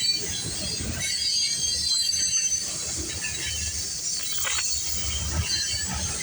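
A CPKC freight train rolls steadily past nearby, a continuous loud rumble with bright high-pitched wheel squeal and rail noise running throughout.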